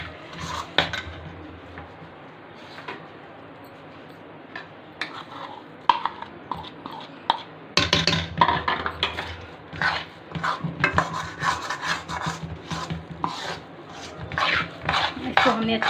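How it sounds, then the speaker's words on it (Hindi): A besan barfi mixture is stirred and mixed in a pan, with irregular scraping and knocking of a spoon against the pan, quiet at first and then more vigorous, with occasional talk. "इसको हमने अच्छे से मिक्स कर लेना है"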